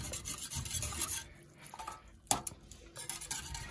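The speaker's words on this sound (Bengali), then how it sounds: "ডিমটাকে দিয়ে খুব ভালোভাবে মিক্স করে নিতে হবে।" A spoon rasps and scrapes against a pot as two egg yolks are stirred into a Thai soup with fried chicken and water, a continuous scratchy mixing sound with one sharp clink midway, close up and no voices.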